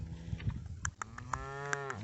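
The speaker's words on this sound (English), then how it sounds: "Beautiful, beautiful cows, aren't you?" Several cows moo in a grassy field, a few deep drawn-out calls rising and falling close by over light outdoor background noise.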